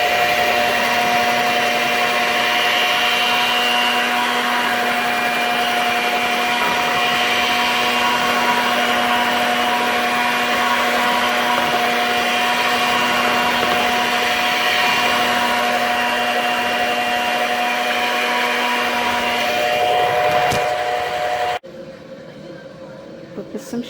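An electric mixer whipping shea butter, a steady loud whirring drone with a constant pitch that runs for about twenty seconds before cutting off abruptly.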